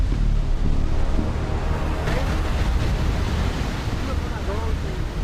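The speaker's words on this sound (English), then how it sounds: "we might just have found the most beautiful waterfall I've ever seen" A waterfall roars in a steady, loud wash of rushing water that fills the whole stretch, with faint voices briefly rising near the end.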